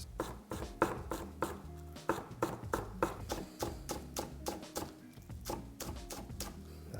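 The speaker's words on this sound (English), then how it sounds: "So I'm just going to slice these up really fine, the onion tops" A knife chops onion tops finely on a cutting board in a quick, steady run of crisp, close taps, about two per second, with no talking.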